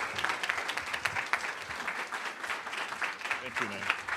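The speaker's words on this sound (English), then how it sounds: "Let's give a round of applause for Preston." An audience at a tech summit applauds steadily as a speaker comes to the stage. Many hands clap in a dense, even wash, and a few faint voices sit underneath.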